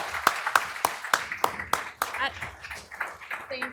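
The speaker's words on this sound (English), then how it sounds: "Okay, one more round of applause for our panelists." A few sharp, evenly spaced claps from an audience at an affordable housing summit panel, loud and close for about two seconds before speech takes over.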